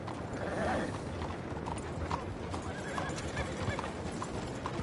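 Horse hooves clip-clop steadily at close range in the Red Dead Redemption 2 video game, with a whinny rising early on and a faint mechanical rattle beneath the steady hoofbeats.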